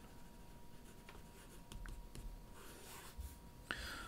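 A pen draws on a surface with soft, scratchy strokes in short irregular bursts, faint and close, with light breathing in the background.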